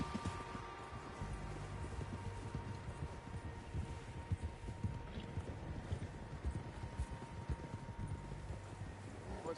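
Many horses' hooves pound in a continuous, rapid gallop in the video game Red Dead Redemption 2, a dense rumbling clatter that holds steady throughout.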